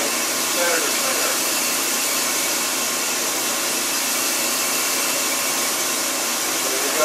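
A grinder works on a workpiece with a loud, continuous, even roar that holds unbroken from start to finish.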